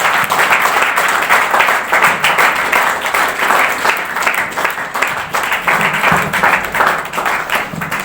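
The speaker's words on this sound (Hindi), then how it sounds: "अरे इसको जोरदार ताली बोलते हैं" An audience at an award distribution ceremony breaks into loud, sustained applause, a thick wash of many hands clapping steadily with slight swells.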